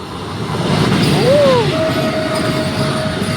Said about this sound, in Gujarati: ઓખા વંદે ભારત ફૂલ હોંકિંગની સાથે આવી રહી છે.